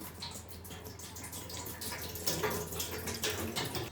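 Water runs and splashes into a pot while preparing Thai sour curry with catfish, a steady soft pouring stream close by with no talk.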